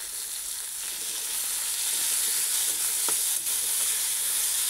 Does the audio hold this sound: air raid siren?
no